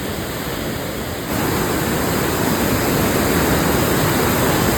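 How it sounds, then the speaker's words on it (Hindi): Roaring floodwater of the swollen Ganges at Haridwar after cloudburst rains, a dense, continuous broadband rush that swells louder after the first second and stays steady and close, with no talk over it. "मेरे पीछे इतना खतरनाक साउंड आ रहा है और ये जल इतना खतरनाक लग रहा है"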